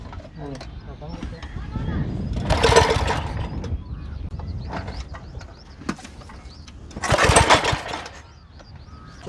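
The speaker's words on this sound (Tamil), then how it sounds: "இப்போ இன்ஜின் ஸ்டார்ட் பண்ணுறத பாருங்கள்" A small engine on a Jaffna-made fibreglass boat is started outdoors, giving two loud rising bursts of mechanical roar separated by quieter rattling and ticking, with talk in the background between attempts.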